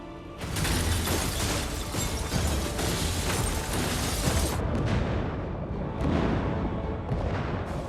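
Clone storage chambers explode in a scene from the series Foundation Season 3, a sustained, loud, roaring blast that rumbles for several seconds, then settles into crackling debris and lingering rumble.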